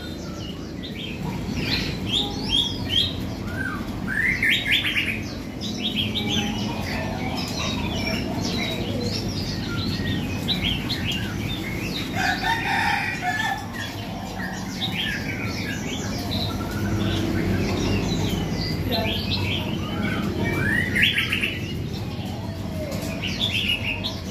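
A newly caught wild red-whiskered bulbul chirps in short, sharp bursts scattered through a steady noisy outdoor background, the calls fairly close but not loud, repeating irregularly throughout.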